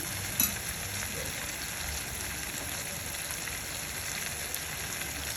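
Fenugreek powder goes into a hot pan of oil for a tangy gongura pickle, with steady, faint sizzling and frying throughout and a small clink near the start.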